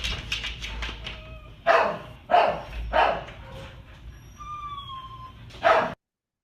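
Lucy, a pair-housed dog in a shelter kennel, barks in a series of sharp, loud barks with yips between them, close by against a steady background hum.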